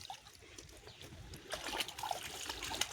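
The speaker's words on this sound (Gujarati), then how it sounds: "ખાડો ભરાવાનું ચાલુ થઈ ગયો." Irrigation water trickles into a pit in a farm field, a faint gurgling dribble that grows busier and louder halfway through, with light splashes and no speech.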